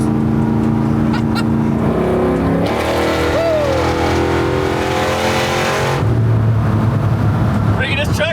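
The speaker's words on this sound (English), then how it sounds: "I like the sound of them exhaust" A loud engine of a retro RV truck rumbles and revs, the exhaust note rising and falling, then idling deep; a voice is briefly heard underneath.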